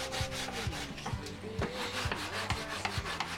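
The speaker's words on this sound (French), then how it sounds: "Ensuite on n'a plus qu'à poncer toute la partie support." Hand sanding along the edges of a wooden headphone stand, a steady close rasping rub broken by repeated scraping strokes in an even back-and-forth rhythm, with no voices.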